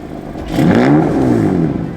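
A BMW M4 F82 with optional BMW sport exhausts revs up close and loud, its engine note rising to a sustained snarl before easing slightly.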